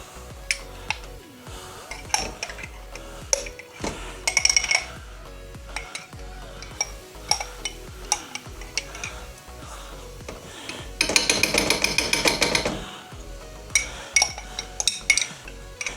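Canned stewed meat sizzles in a frying pan while utensils clink and scrape against it, with a louder burst of frying sizzle partway through.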